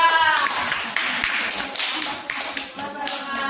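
Students in a class clap for a presenting group, a near, uneven patter of hand claps with sharp individual slaps, mixed with a few voices in the background.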